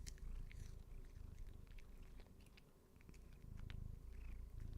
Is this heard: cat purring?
yes